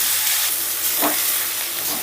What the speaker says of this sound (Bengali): আমি সমস্ত মশলাটাকে বেশ ভালো করে ভাজা ভাজা করে নেব